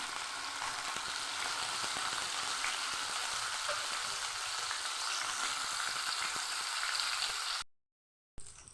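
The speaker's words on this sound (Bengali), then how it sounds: "ইলিশ মাছগুলোকে আমি একটু হালকা করে ভেজে নেব।" Hilsa fish pieces fry lightly in a pan with a steady, dense sizzle and crackle up close, broken by a short silent gap near the end.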